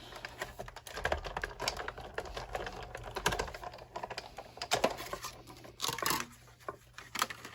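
Soft, irregular crunching and clicking of cutting out a layer of heavy 110-pound cardstock for a card, quiet and close, with no one talking.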